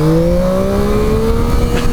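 A 2023/24 Yamaha MT-09 SP motorcycle engine holds a loud, close, steady drone with a rising tone as the rider keeps a wheelie up, no voices.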